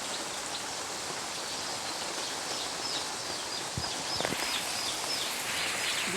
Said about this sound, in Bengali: বৃষ্টিতে দেখেন কি অবস্থা